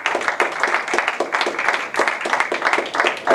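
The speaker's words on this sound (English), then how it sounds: "So give yourselves a round of applause" Conference audience of an Israelite gathering breaking into dense, steady applause, many hands clapping together in a close, loud roar that keeps going without pause.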